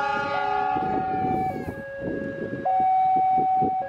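Parsel Selatan parcel train from Surabaya Kota to Bandung, pulled by two locomotives, departs Rancaekek station: sustained horn blasts and a high siren-like tone ring out over the rumble and clatter of the moving train, loud and close.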